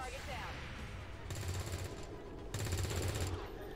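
Gunfire in the video game XCOM 2, two loud rapid automatic bursts hammering out in quick succession against a rumbling background, with a voice speaking.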